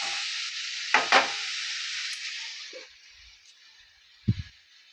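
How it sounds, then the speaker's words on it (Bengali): Chicken mince stirred in a hot pan for momo filling: a steady close sizzle with two sharp spatula scrapes early on, the frying fading quieter toward the end before a final clatter of the utensil. "এবারে একটু নেড়ে চেড়ে হালকা আঁচ করে আমি এটা একটু ঢেকে দেবো"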